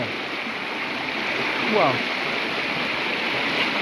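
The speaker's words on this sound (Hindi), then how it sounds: "ये आप देख सकते हैं कितना तेज़ी से झरना यहाँ से बहते हुए आ रहा है।" A fast-flowing waterfall at Sesa in Arunachal Pradesh gives a steady, close, rushing roar that fills the whole stretch, with a brief spoken exclamation over it.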